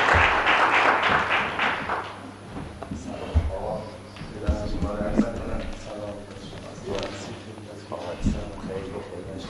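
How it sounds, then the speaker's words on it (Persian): An audience at a talk gives a burst of loud applause that fades over the first few seconds. A speaker then talks into a microphone while a few scattered claps and shuffling sounds continue. "خب یک تشویقی بکنین این جوان عزیز رو"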